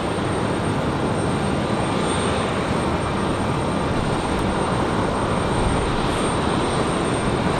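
A Lufthansa Airbus A330 airliner at Raleigh-Durham gives a loud, steady, unbroken engine roar with a faint high whine above it.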